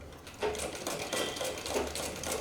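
A sewing machine stitches blouse sleeves in short bursts of rapid mechanical clatter, fairly quiet and close, with brief pauses between runs.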